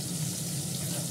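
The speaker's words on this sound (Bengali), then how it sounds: "আগে পেঁয়াজ দিয়ে মুসুর ডাল ফোড়ন দেব।" Onions sizzle steadily in hot oil, frying in a pan to temper masoor dal. The hiss is close, loud and unbroken, with no voices.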